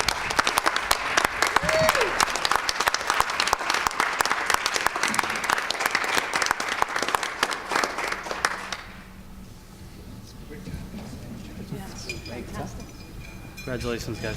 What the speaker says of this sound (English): please join me one more time in giving our student athletes a round of applause